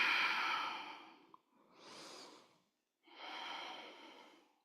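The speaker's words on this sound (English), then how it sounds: "Just breathe in and breathe out." Slow, deep breaths during a yoga session, close and quiet: a long exhale, then an inhale and another long breath out, separated by brief pauses of silence.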